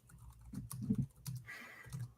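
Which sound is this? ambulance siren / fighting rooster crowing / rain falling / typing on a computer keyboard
typing on a computer keyboard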